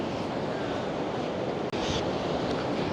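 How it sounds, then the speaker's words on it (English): Rough, choppy sea waves crash steadily along an old seaside promenade in stormy cold-season weather, a loud continuous roar of surf mixed with wind buffeting the microphone, with a brief dropout near the middle. "Never seen waves this severe."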